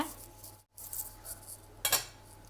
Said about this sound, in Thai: นี่นะคะเราจะทำชิ้นเล็กพอคำก็หั่นเป็นอย่างนี้เลย